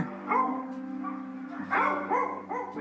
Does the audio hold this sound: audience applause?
no